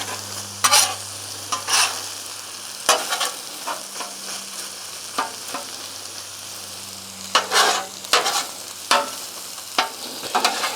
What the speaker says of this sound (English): We'll put our bacon in it.